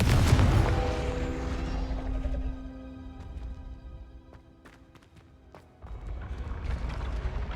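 An explosive burst from the Confringo blasting spell in Hogwarts Legacy hits hard at the start, then rings out in a long tonal decay, with a few sharp cracks and a second swell of rumble later.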